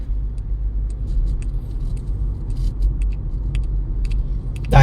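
Road traffic in Tagaytay, where a flyover is under construction: a steady low rumble of passing cars with faint scattered clicks and rattles, fairly continuous and moderately loud, with no talking.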